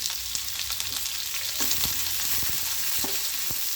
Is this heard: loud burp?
no